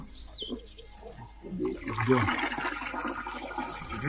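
Water rushes and splashes as it is poured in to fill a piggery biogas digester, a steady gushing that starts halfway through, with a few faint bird calls before it.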